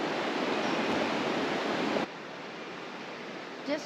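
Water pouring steadily over Stephen's Weir, an irrigation weir near Deniliquin, Victoria, makes a broad, continuous rushing roar. The roar is loud and even for two seconds, then drops abruptly to a softer, steady wash.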